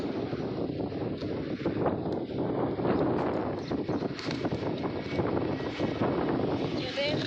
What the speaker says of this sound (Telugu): ఫుల్ గాలి వస్తుంది.